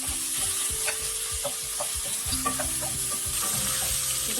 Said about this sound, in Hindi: इसी तेल में प्रॉन्स भी फ्राई कर लेंगे